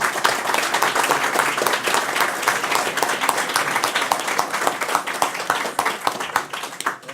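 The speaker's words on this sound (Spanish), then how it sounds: "un aplauso muy caluroso" Warm applause from an audience at the close of a talk on Israeli society, steady dense clapping filling the room throughout without pause, fairly close and even in loudness.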